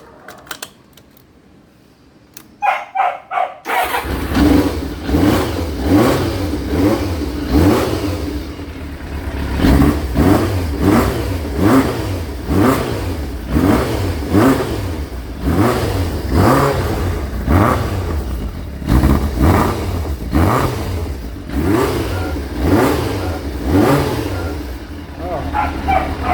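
A restored Kawasaki ZXR 750 motorcycle engine starts and revs repeatedly, loud and close, with rhythmic rises and falls in pitch, while someone talks over it now and then.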